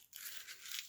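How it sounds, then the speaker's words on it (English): A small scrap of sheet music paper is wadded up by hand, giving a close, continuous crinkling and crunching that runs for about a second after a brief pause. "Wad it up, crumple it up."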